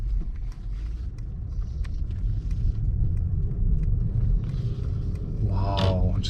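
A 2022 Mercedes-Maybach S580 with a V8 pulls away, a low muffled engine rumble and road noise heard from inside the cabin, steady and moderate, with a brief chirp near the end.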